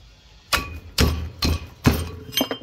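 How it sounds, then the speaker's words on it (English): A pry bar works a seal off a wheel bearing hub in a few sharp metallic knocks and clinks, spaced about half a second apart, close and fairly quiet. "Pop the seal off and take the bearing out."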